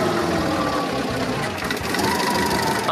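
A worn engine in an old Volga car idles steadily with a rough, ticking mechanical clatter, close by and continuous throughout.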